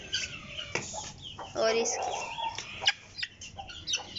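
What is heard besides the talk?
aseel chickens clucking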